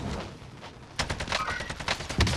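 Rapid gunfire bursts from the video game Call of Duty Warzone crackle in quick succession, fairly close and sharp over low background game ambience.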